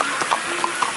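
A police horse passes on a street in Turkey, its hooves clopping in a quick, steady rhythm close by and clearly audible, with no talk over it.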